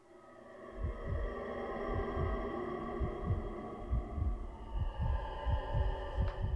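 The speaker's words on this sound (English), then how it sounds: "Hear a heart beating." Steady heartbeat thumps from the Call of Duty Infinite Warfare campaign, roughly two beats per second, low and pulsing over a droning hum as a character comes to.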